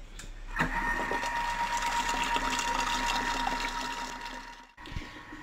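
A kitchen robot runs steadily at speed 3 with its lid on and no measuring cup, cooking a lemon-curd mix at 70 degrees: a continuous whirring mechanical hum with faint liquid churning, which cuts off briefly near the end and restarts.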